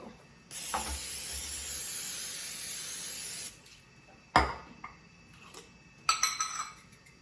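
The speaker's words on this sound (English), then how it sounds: "before we put our seasonings on, we're going to spray with our olive oil" A steady hiss of olive oil spraying onto bread cubes lasts about three seconds, followed by a few light clinks and taps nearby.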